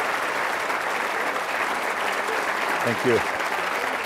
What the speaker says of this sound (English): let's give a round of applause to the general for doing what he has done